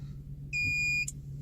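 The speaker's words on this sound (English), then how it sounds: "Beeping." An Autel diagnostics tablet gives a single clear electronic beep, a sustained pure tone of about half a second that stops abruptly over a low steady hum.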